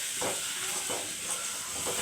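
Small sardines coated in fish-fry powder, ginger-garlic paste and salt fry in a pan with a continuous close hiss and sizzle, broken by a few soft stirring scrapes, and no voices.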